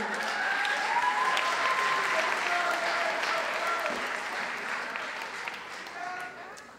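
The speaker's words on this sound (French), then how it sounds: "On peut l'applaudir" Applause from a school audience at a secondary school in Shawinigan, a dense steady roar of clapping lasting several seconds with voices and cheers mixed in, easing slightly toward the end.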